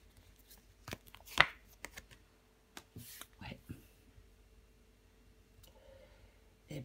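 A tarot card is laid down over the king of wands with a few soft, close papery slaps and clicks, separated by quiet gaps.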